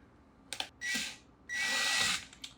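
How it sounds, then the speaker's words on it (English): A power drill whirs in two sustained bursts while trying to bite into a shifter knob, with short stuttering spurts of the motor before and after, close by and loud. "carefully try to get this drill to latch onto it"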